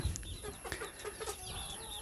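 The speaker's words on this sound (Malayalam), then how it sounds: "ഇത് ഒരു അസീൽ പെടയാണ് അതിൻ്റെ കൂടെ ഒരു കോഴിയും കൂടിയുണ്ട്" An Aseel hen and another chicken in a wire cage give soft, scattered clucks and short calls, faint and fairly close, with light rustling between the sounds.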